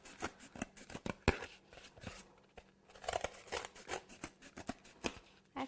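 Scissors make a quiet series of crisp snips and crunches as they trim a cardboard cake board for a sculpted teddy bear cake. The cuts come irregularly, with short pauses between them.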